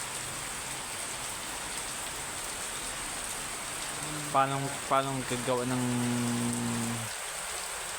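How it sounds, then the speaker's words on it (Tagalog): Steady heavy rain hisses throughout, with a voice speaking briefly over the downpour near the end. "malakas na ulan dito"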